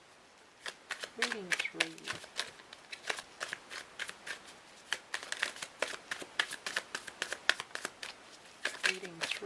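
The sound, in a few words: shuffling cards for a reading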